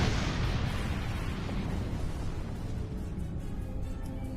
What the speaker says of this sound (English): Watch out for those torpedoes